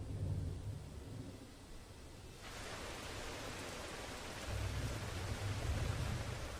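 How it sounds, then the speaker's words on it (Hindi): Rain and thunder on the African savanna during the rainy season, a steady hiss of heavy rain with low rumbling thunder rolling in at the start and again near the end. "बरसात का मौसम आ गया है।"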